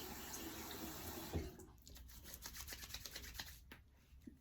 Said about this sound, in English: I'm just gonna stick my hand under the faucet.